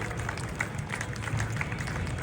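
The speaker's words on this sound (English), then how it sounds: "Give yourselves a round of applause for being here and remembering" Outdoor crowd applause at a Times Square Armenian Genocide commemoration, a dense, steady wash of clapping from many people that holds at an even, moderately loud level for a couple of seconds.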